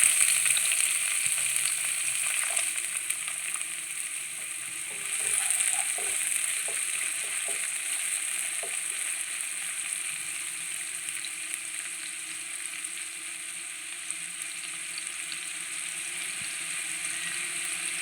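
Small sambar onions (shallots) frying in hot oil, a steady close sizzle that continues without pause, with a few faint clicks of a utensil.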